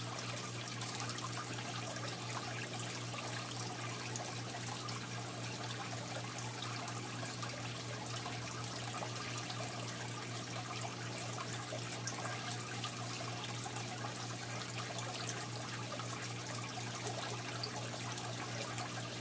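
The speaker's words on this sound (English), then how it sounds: "putting some fresh water back in the tank" Brackish water being poured back into a tank: a soft, steady trickle and pour that runs evenly and fairly quietly the whole time, with no talk over it.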